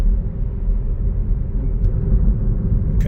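Car driving steadily on a road with a continuous low engine and tyre rumble, faint wind noise on top, close and even throughout with no talk.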